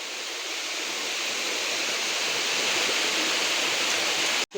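Roaring waterfall close by in a jungle, a dense, steady rush of falling water that stays loud and unbroken for several seconds before cutting off abruptly at the end.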